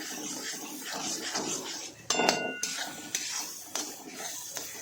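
Potato stuffing being mixed with lemon juice for bhungla bateta, giving soft scraping and stirring with a few sharp clinks of utensil against a dish, close and moderately quiet, with no talk.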